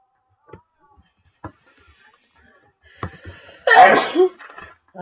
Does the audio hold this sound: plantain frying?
no